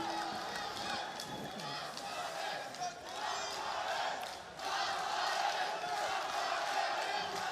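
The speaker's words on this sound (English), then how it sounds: "I can't quite make out what the crowd are chanting, but they're getting into it." A packed arena crowd at a Karate Combat bout between Rafael Aghayev and Davy Dona roars and chants steadily through the final round, a dense, loud wall of voices that swells near the end.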